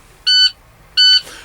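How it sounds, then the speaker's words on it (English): Two short, shrill electronic alarm beeps from a truck's secondary air gauge during an air brake test, evenly spaced and loud, with near silence between them. "The alarm that you guys hearing is the secondary gauge alarm."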